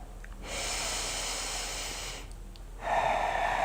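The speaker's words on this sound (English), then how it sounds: "So this is the lateral breathing." A person does a lateral breathing exercise: long, audible breaths drawn in and pushed out close to the microphone, one breath after another with a short pause between them.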